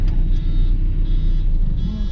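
A van creeping and manoeuvring at low speed while parallel parking, heard from inside as a steady low engine drone with faint higher whine, close and continuous with no voices.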